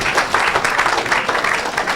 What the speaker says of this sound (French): Oh, acclamez pour la gloire de Dieu.